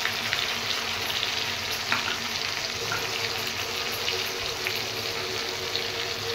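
A spice paste of ginger, tomato, cardamom, cinnamon and green chilli sizzles and spatters steadily in a hot pan for a vegetarian potato and chickpea curry, with occasional stirring scrapes and clinks close by.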